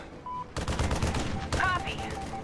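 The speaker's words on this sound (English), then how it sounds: "Take the shot, Grim." Gunfire in the stealth shooter Splinter Cell Blacklist: two loud bursts of shots crack out close by, with game sound effects and faint voice elements mixed in.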